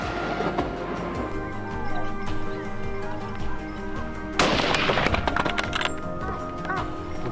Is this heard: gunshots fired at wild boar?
yes